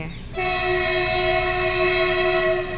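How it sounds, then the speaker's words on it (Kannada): A freight train's horn blares loudly and continuously in Hubballi, a steady multi-tone blast over a low rumble of rolling cars. "ಟ್ರೈನ್ ಬಂತು ನೋಡ್ರಿ"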